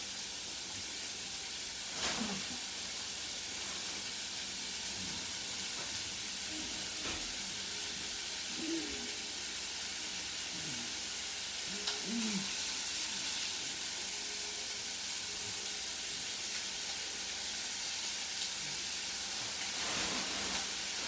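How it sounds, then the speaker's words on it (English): Ground pork fries in a small pot with a steady, moderate hiss of sizzling fat that holds throughout, broken by occasional soft pops and faint clinks. "you're going to let it all fry up nice and brown."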